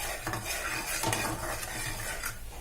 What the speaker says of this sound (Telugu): ఇలాచీ పౌడర్ వేసుకొని కొంచెం కలుపుకోవాలి